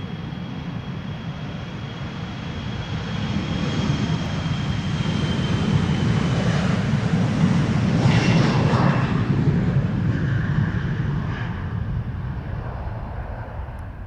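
A seven-year-old airliner, registration PH-EXR, takes off at Amsterdam Schiphol, its jet roar swelling to a loud peak midway and then easing off, a steady rumbling rush with a faint rising whine.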